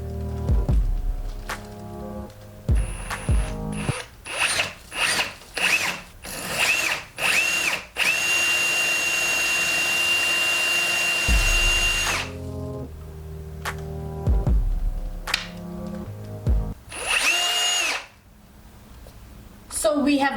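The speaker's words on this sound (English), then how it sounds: "So now we are going to drill." A power drill in drill mode boring slowly into a wall, running in short bursts with pauses, then a long sustained stretch of whining, grinding drilling, close up, with a voice talking between bursts.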